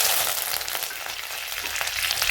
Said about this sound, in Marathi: जिरे मोहरी तडतडली, कढीपत्ता टाकू